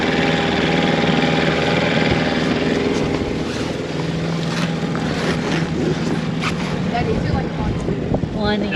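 A trailer sailor sailboat motors out of a busy harbour on a small engine, a steady low drone running throughout with wind buffeting the microphone and water noise, close and fairly loud.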